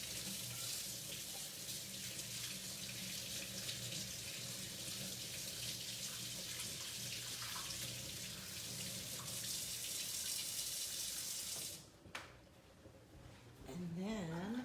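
Tap water runs steadily and close up into a sink while a stencil is washed, a continuous broadband rush that stops briefly near the end before flowing again.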